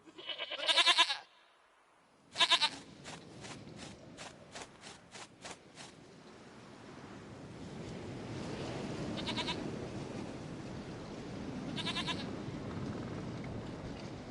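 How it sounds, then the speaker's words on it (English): A goat in a video game lets out a few sharp, loud bleats at the start, then a series of fainter repeated calls over a low, rising ambient hum. "Goat of mine, dearest,"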